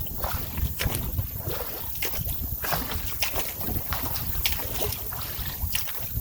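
Canoe paddling against strong wind, with rhythmic paddle strokes and splashes under a steady roar of wind buffeting the microphone.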